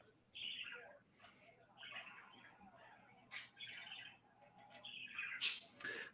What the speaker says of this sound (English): I'm just going to go tuck the bird in. He's getting a little too rambunctious for my liking.